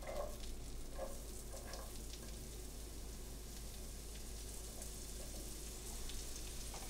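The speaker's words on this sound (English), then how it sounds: "we're going to start out with sauteing some onions" Onions sautéing over high heat for Provençal sauce, a faint, steady low sizzle under a constant hum, with a few soft stirring taps early on.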